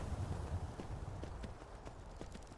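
Horse hooves clip-clop steadily at a walking pace during a night ride in the video game Skyrim, a soft repeating rhythm of hoof falls over a low ambient background, with no talking.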